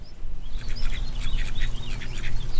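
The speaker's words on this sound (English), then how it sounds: "Here's a duck." Several duck quacks in quick, uneven succession over a steady low rumble, fairly close and clear.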